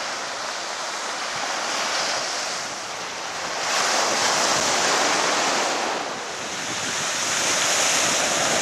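Sea waves on a shallow, soft-sand beach in Cyprus wash in a continuous broad roar that slowly swells and eases, mixed with wind buffeting the microphone.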